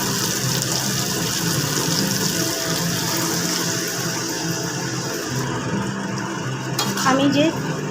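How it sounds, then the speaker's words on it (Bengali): Boiled chickpeas with their cooking water poured into a pan of spiced oil for a vegetarian paneer chole, giving a steady sizzling, stirring clatter close by with a wetter splash near the end. "এবার এখানে আমি আগে থেকে সেদ্ধ করে রাখা ছোলাটা ঢেলে দেবো।"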